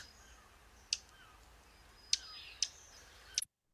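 Swamp sparrow chuck calls: four short, sharp chip notes, isolated and fairly close, spaced irregularly over a few seconds against a faint, quiet background.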